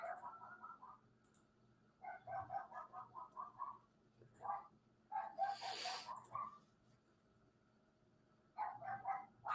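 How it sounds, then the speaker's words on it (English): A small dog barks in several bursts of quick yaps, some fairly clear and some more distant, with pauses of quiet between them. "Can y'all hear that little crap dog?"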